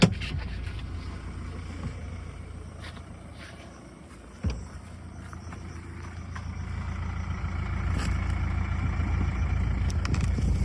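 An old diesel car engine idles, heard close at the exhaust silencer as a steady low rumble with a brief dip and thump midway, then a slightly rising, louder idle.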